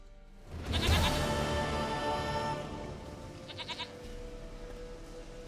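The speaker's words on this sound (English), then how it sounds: "Goat of mine, dearest, sweetest goat." Goat bleats from The Witcher 3 video game, a loud wavering cry near the start followed by a shorter, quieter bleat, set over a soft ambient game background.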